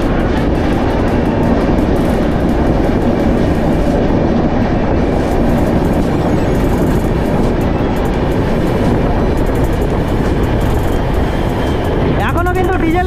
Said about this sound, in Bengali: এখনো কিন্তু ডিজেল ইঞ্জিনে আমরা যাচ্ছি।